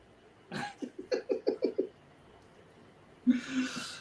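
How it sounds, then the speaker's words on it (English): A person coughs repeatedly in a quick series of short, harsh coughs, followed by a breathy wheeze and throat noise, close up. "Sit here and cough all night."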